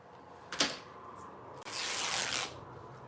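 Scissors cutting a paper tie rope in two for a recycled-paper junk journal: a faint snip, then a longer soft rasping cut, close and quiet.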